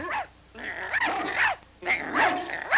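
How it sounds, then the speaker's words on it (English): Dogs bark and growl in repeated loud bursts, with brief pauses between them, close by and with no talking. "I think I hear a dog."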